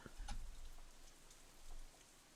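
Rain falling in the visual novel Katawa Shoujo, a soft, steady patter across the short stretch with a few brief louder drops, no voices.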